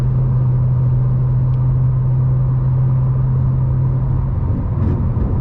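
A 2013 BMW M5 cruising on the freeway at 70 mph gives a steady, unbroken low engine and road rumble with a constant drone, heard from inside the cabin with no talking.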